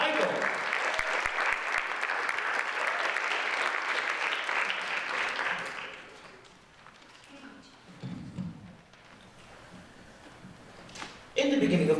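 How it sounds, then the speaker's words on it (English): An audience at a folktale storytelling competition claps for a storyteller named Michael. Dense, steady applause runs for about six seconds, then fades into quiet room noise with a few scattered sounds and a brief burst near the end. "Keep clapping for Michael."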